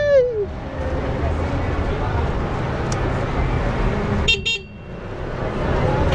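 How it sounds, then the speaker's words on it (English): Tuk-tuk horn on a Lisbon city street, with two short, bright honks near the end heard over steady engine hum and traffic noise. "So I'm honking now because better to honk than to get accident"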